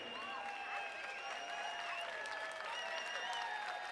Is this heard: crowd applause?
yes